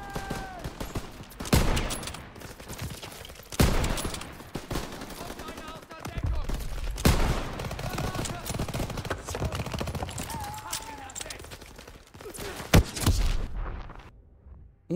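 Bursts of World War II machine gun and rifle fire crack out in the Call of Duty WWII video game, loud and repeated over fifteen seconds, with shouted voices and battle noise between the volleys.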